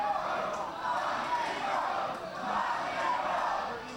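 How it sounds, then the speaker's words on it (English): A wrestling crowd in Sparta, Tennessee chants rhythmically, a sustained swell of many voices rising and falling in steady waves, filling the arena throughout. "Chant of rock and roll breaks out here in Sparta."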